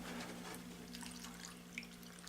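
Water trickles and splashes into a cooking pot set on a Cubic Mini wood stove, a faint, close, uneven pouring with small drips over a low steady hum.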